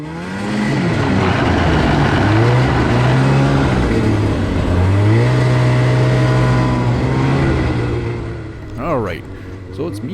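A 2004 Arctic Cat Panther snowmobile rides past on an old sled trail, its engine droning loud and close with rising and falling pitch, then fading as a voice talks over the end.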